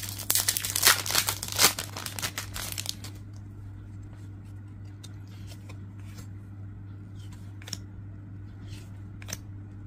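A Hololive trading card booster pack wrapper is torn and crinkled open, loud and close for the first three seconds, then only faint rustles and small clicks follow against a steady low hum.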